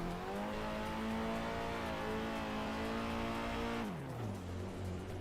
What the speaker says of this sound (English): I think I might change the sound on this SR car actually.